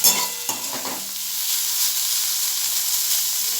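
Snake gourd slices frying in a pan while being stirred, a few scraping clatters at the start giving way to a steady, even sizzle that continues alone without talk.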